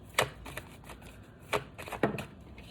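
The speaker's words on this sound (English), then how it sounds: "I shuffled these cards, man." A deck of playing cards being shuffled close by in a few separate riffling bursts, fairly quiet, with no talking.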